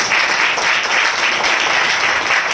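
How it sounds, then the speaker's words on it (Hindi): Loud, dense applause from an assembly of believers at a spiritual passion gathering, steady crowd clapping filling the whole moment without a break. "हम जोरदार तालियों से उनका स्वागत करें।"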